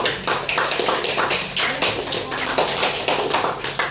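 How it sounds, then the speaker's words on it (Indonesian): Loud, dense applause from a group, many hands clapping continuously with a slightly rhythmic pulse. "Sediakan tepuk tangan."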